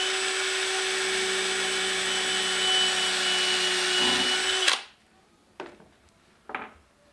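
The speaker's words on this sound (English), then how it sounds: "It'll keep the drill bit from wandering" A steady high-pitched whine of a drill bit boring into a birdhouse ornament runs for several seconds, then stops abruptly, followed by two short clunks in the quiet.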